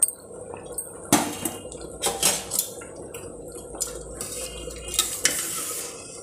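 Cashews, pepper and cumin tipped into a pot of venn pongal for a Pongal festival meal: several sharp clattering pours and metallic clinks against the vessel, moderately close, separated by quiet kitchen background.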